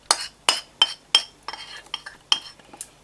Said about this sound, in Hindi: पिस्ते और कंडेंस्ड मिल्क, ये सब आपने ऐड करके इसे अच्छी तरह मिक्स कर लेना है।